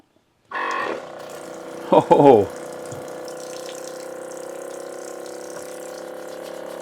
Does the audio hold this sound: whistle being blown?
no